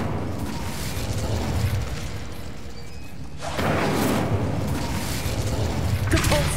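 Incendio fire spell cast in the video game Hogwarts Legacy: a sudden whooshing burst of flame swelling midway through and sustained, with another flare near the end over a steady background ambience.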